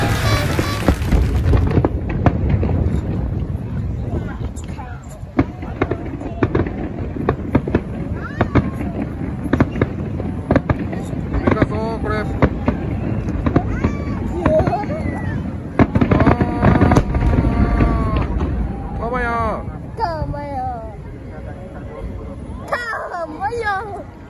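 Fireworks at a summer harbour festival in Nagasaki, a dense continuous barrage of booms and crackling bursts with whistling rising shells, heard from a crowd with voices and children chattering throughout.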